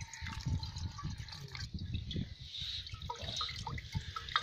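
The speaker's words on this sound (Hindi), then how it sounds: "इसे अच्छी तरह सूती कपड़े में छान लेंगे।" Watermelon juice is strained through a cotton cloth, giving a steady close trickle and splash of liquid with faint dripping throughout.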